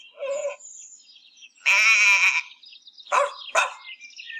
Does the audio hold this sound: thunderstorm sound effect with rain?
no